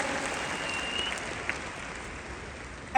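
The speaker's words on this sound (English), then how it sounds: "Let's give them a big, nice round of applause." A big round of applause from a convention audience fills the hall, a steady dense wash of many clapping hands at even loudness from start to finish.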